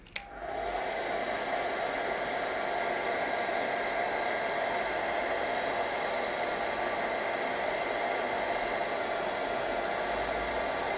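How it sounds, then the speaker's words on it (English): A hair dryer switches on with a click and blows steadily over pressed botanicals for a collage, a loud continuous whooshing hum that stays even throughout. "then you can actually get the hairdryer and hold these down like so."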